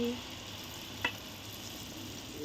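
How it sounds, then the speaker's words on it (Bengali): Malpua frying in oil, a soft, steady sizzle held at low level for a couple of seconds, with one brief sharp click midway. "এখানে মালপোয়া ভেজে নিচ্ছি সুন্দর করে করে দিয়ে দিচ্ছি"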